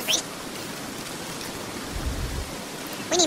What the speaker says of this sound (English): And it's raining. It's so awful it's raining.